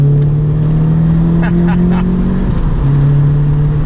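A 1985 Ford Escort Series 1 RS Turbo heard from inside the cabin while driving, engine droning loudly and steadily, then dropping in pitch as the revs fall, with faint crackling pops on the overrun.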